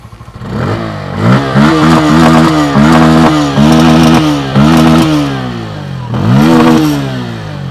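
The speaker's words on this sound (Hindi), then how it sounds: "आइडियल कंडीशन पर इंजन साउंड सुनिए, एग्जॉस्ट नोट, थ्रॉटल देता हूँ।" A Bajaj Pulsar N160 motorcycle engine revs hard in repeated throttle blips, its loud raspy exhaust note rising and falling with short pauses between pulls.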